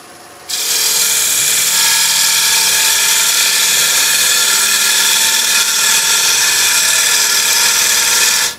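A wood lathe turns a bowl from scrap timber while a tool cuts back the rim, giving a loud, continuous, steady hiss and whine close up with no voices, ending abruptly.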